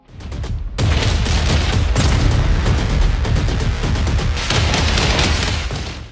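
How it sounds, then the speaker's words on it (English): Twin Berettas fire continuously in Hong Kong Massacre, a dense, loud barrage of rapid shots and booms that runs almost without break after a brief opening burst. "you'll be slow-mo jumping your way Max Payne style through windows, firing twin Berettas"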